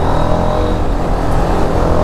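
A TVS Apache motorcycle cruises on a highway, its engine drone blended with loud, steady wind rush up close, with no talking.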